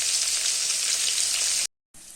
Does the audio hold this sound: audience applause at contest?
no